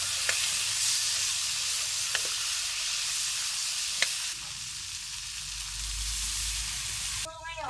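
Adobong seresa (aratelis) sizzles steadily in a hot pan while being stirred, with a few sharp utensil clicks against the pan and a brief clatter near the end.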